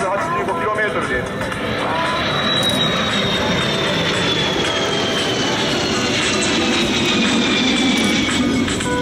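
A twin-turbofan JASDF C-1 military transport jet roars steadily overhead at a Miho Air Base air show, a loud, broad engine rumble with a slowly falling whine as it passes, and a voice speaks faintly beneath it.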